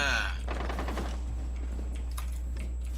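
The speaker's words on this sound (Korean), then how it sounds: "총소리가 JMR인데?" Rapid rifle fire from a JMR in the video game Rainbow Six Siege, a brief burst of sharp reports at the start that trails into softer distant shots over a steady low hum, with no talk.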